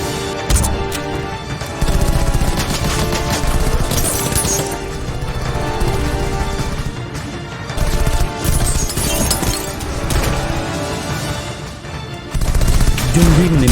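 Loud, dense gunfire in a tense action film chase, rapid bursts layered with crashes and shattering over a heavy, continuous soundtrack.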